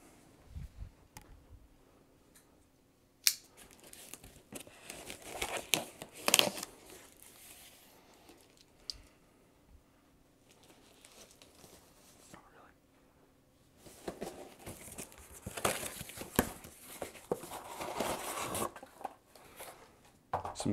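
A Sterling Stingray 5HH guitar is unboxed from a shipping carton, with soft rustling, crinkling and tearing of cardboard packaging, close and fairly quiet, coming in bursts and swelling louder near the end.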